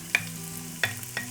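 Chopped onions in a pan of garlic-infused olive oil give a faint sizzle, broken by three quick clicks of a utensil stirring against the pan.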